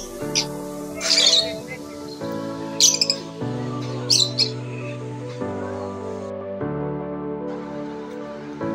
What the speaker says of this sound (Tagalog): Pati huni ng ibon ay maririnig mo na tila bumabati sa pagbisita